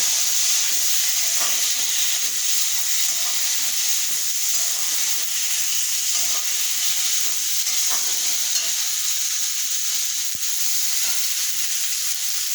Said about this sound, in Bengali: এরপর এর মধ্যে আমি দিয়ে দেবো দুটো টমেটো। এরপর এটা আমি নাড়তে থাকবো